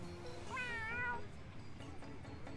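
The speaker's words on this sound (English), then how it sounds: "This cat belongs to our biggest advertiser." A cat in the Tales of Xillia 2 video game gives a single rising-and-falling meow over quiet game background ambience, fairly clear and close, lasting under a second.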